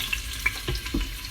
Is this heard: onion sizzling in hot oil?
yes